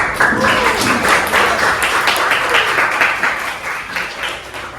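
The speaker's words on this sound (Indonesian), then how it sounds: "Oke, terima kasih, tepuk tangan dulu." Classroom students clapping after a teacher's lesson in an Indonesian teacher-training session, a dense, steady wash of applause lasting throughout and tapering slightly toward the end.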